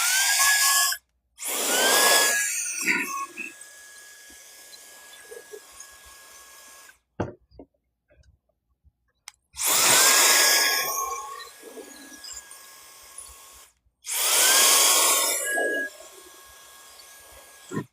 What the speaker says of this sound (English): using a handheld blower to kind of blow these things off